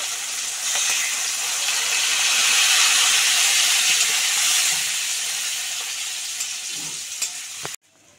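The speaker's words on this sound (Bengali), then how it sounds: "কাঁকড়াটা এতে দিয়ে দিচ্ছি। আর এর সাথেই আমি তেঁতুল জলটা দিয়ে দিচ্ছি।" Crab and tamarind water hitting hot oil with black mustard seeds give a loud, continuous, steamy hiss that swells, then slowly eases and cuts off abruptly near the end.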